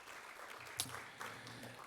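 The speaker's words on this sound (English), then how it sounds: "Let's give them a well-deserved round of applause again." Steady, dense applause from an audience, a continuous wash of many hands clapping at moderate volume with no voices on top.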